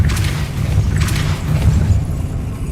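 Depulso spell cast in the video game Hogwarts Legacy, heard as a dense low boom with rumbling thuds sustained across the moment, with brief bright whooshing bursts near the start and again around a second in.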